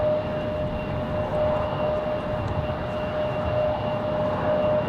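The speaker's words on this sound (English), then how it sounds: "So JetBlue's cleared for takeoff." A JetBlue airliner taking off at Raleigh-Durham airport: a steady, broad engine roar with a faint whine, even and sustained throughout, with no voices.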